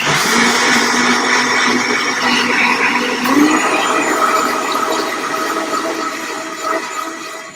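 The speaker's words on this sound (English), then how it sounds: "We're going to just blend this and do the happy blender dance." Blender whirring through lemon and a liter of structured water, a steady loud motor roar that holds throughout with slight pitch shifts, close up and alone.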